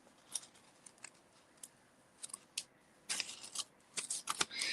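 Scissors cut through a paper craft piece in a quiet card-making setting, with a few sparse snips early on and then a denser flurry of crisp, close cuts near the end.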